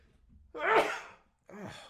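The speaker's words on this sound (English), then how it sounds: "That sneeze really messed me up." A single sharp sneeze close to the microphone, followed after a short pause by a brief breathy vocal sound.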